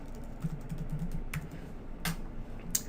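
Quiet, irregular keystrokes on a computer keyboard as text is entered into a box, soft clicks close by with a few sharper taps.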